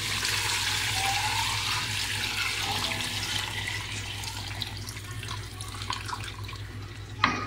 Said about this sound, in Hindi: अब हम इसमें जो यखनी इसकी थी वो सारी हम डाल देंगे।